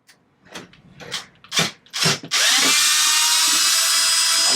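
A power tool spins loose bolts on an RC car differential in a steady, loud continuous whine after a few short bursts and handling clatter.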